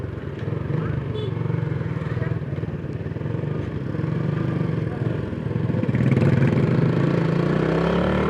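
A motorcycle engine idles steadily in a traffic jam, a constant low throbbing hum with a slight rev near the end, with a voice talking faintly over it.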